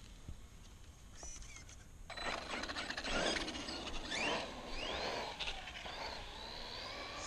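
An Arrma Outcast 4S RC car on a speed run outdoors gives a rising, sweeping electric motor whine as it passes at a moderate distance, with mechanical rattling and pitch shifts as it accelerates.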